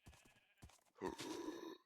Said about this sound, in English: Show me the zombie horse.